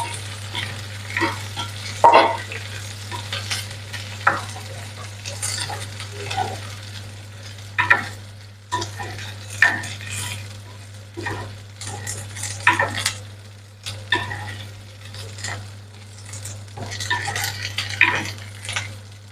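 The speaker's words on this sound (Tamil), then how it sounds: "இப்போ நாங்கள் வெங்காயத்தையும் வெள்ளப்பூடையும் சேர்த்து நல்லா வதங்க விட்டு கொள்ளுவோம்" Onions and garlic sauté in a hot pan for a Tamil fenugreek kuzhambu, a steady close sizzle broken by repeated scrapes and clinks of a spoon stirring against the metal, under a constant low electrical hum, with no talking.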